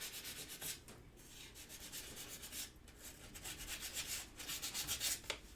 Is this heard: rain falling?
no